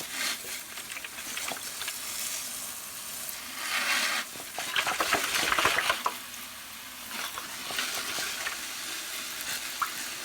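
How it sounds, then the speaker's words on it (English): A garden hose sprays water over plants in a vivarium after a branch is trimmed, giving a steady hissing, pattering wash that rises and falls as the stream moves across the foliage. "So now we just hose it down again."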